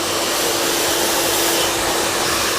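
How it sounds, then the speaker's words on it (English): A hair dryer blows steadily and loudly on a short graduated haircut, the hair being dried forward from the crown; the broadband rush runs unbroken throughout with no talking. "blow drying the hair all the way forward to where it naturally sits"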